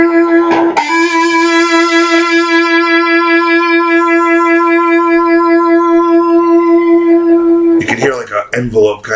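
Electric guitar through a Stiff Hippy II overdrive pedal with the distortion cranked up: one heavily driven note rings with long, even sustain for several seconds before a few harsh, choppy strums close it out.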